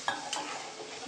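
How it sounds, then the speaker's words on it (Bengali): A pan of Bengali fish curry with spiced gravy sizzles and hisses steadily up close after water goes in, with a couple of brief stirring scrapes near the start. "কষে গেছে, এবার একটু জল দিচ্ছি।"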